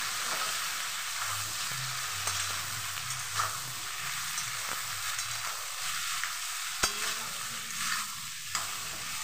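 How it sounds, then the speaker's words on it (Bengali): Mutton is sautéed in a pan for a home-cooked goat curry, giving a soft, continuous frying hiss broken by occasional spoon scrapes and sharp clicks. "বন্ধুরা এখানে মাংস কষানো হচ্ছে।"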